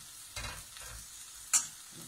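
A green banana and coconut curry cooks in a pan, with faint sizzling, a couple of soft stirring scrapes and a brief sharper clink, all heard without any talk.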